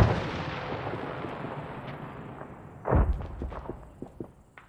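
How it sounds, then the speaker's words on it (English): Gunfire in Arma 3 cracks and echoes across open terrain in a long rolling tail, then a closer burst of sharp rounds follows, with scattered distant shots that sound like ricochets fading out. "They sound like ricochets rather than direct rounds."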